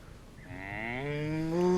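A cow moos once from a children's picture book, a long, steady, rising low bellow that swells and grows louder, close and alone with no talk.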